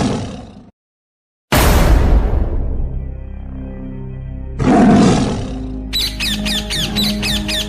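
A tiger roars loudly and close by in two long bursts, separated by a brief silence, and a rapid rhythmic chattering follows at the end.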